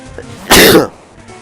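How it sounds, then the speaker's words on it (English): A single short, sharp burst from a person, like a sneeze, sounds loudly and close against a quiet background. "Sneezing!"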